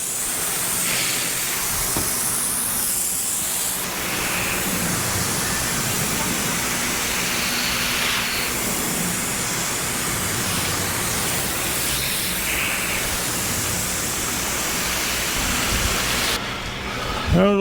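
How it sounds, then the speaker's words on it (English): Water hose rinsing down the body of a 1952 Chevy being prepped for paint, a steady broad hiss and spray of water running continuously at close range, with faint background noise. "Rinse it off."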